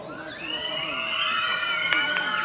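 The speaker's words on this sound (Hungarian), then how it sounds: "Ennek a csapatnak szurkoljunk már egy nagy sikítással." A children's audience at a party show screams together to cheer a team, a sustained high-pitched crowd shriek rising and holding steady throughout.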